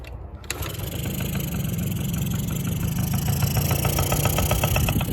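A Honda Express NC50 moped's small engine catches after a brief start attempt and settles into a steady, buzzy close-up idle that gains slightly toward the end.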